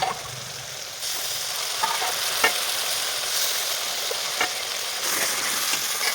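Dhoka curry ladled into hot spiced oil in a pan, giving a crackling sizzle that swells with each ladleful and carries on steadily between them.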